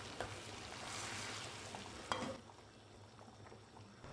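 Fried mint mixture poured into a pot of soup and stirred, giving a broad hiss and sizzle with a sharper splash midway before settling to a quieter simmer; faint and close.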